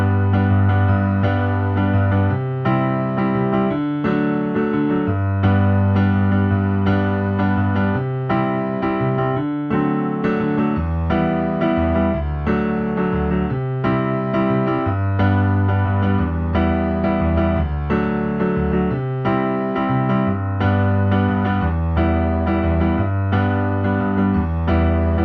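A song's chord progression is played on solo piano in a strummed, guitar-like rhythm, a steady, full-bodied accompaniment with repeated chord stabs over sustained bass notes.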